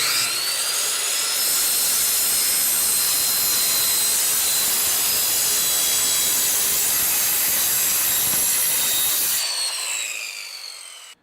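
A sheet metal panel being cut for a 1953 Chevy cooling fan mount, a loud continuous high whining rasp of a power cutting tool held steady for about nine seconds, then stopping abruptly.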